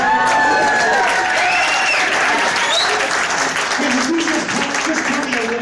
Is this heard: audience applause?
yes